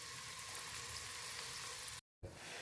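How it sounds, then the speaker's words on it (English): Beef sears in a hot pan, a faint, even sizzle and crackle that runs steadily before a brief cut to silence and a quieter return. "Okay, so now you're gonna sear your beef."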